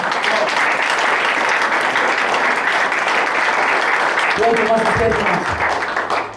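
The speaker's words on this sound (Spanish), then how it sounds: "Damos un aplauso a Dios en esta mañana." A church congregation claps together through a Sunday morning service, the applause loud and sustained throughout, with a voice rising over it near the end.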